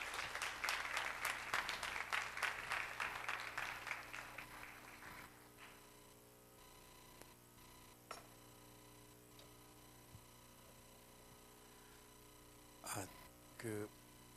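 Applause from a church congregation at a morning worship service, a dense burst of many hands clapping that fades out over several seconds, followed by a quiet room hum with a few faint ticks and thumps.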